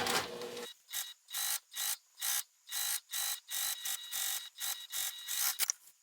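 Sewing machine stitching together fabric pieces of a sling bag: a dozen short bursts of rapid mechanical whirring, evenly spaced by brief pauses, close and clear with no talking.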